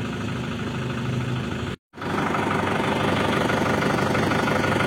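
Car engine idling steadily during brake bleeding work, a continuous close mechanical hum with a brief dropout of silence partway through, then resuming at the same level.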